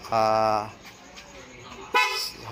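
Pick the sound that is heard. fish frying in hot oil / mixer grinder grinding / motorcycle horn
motorcycle horn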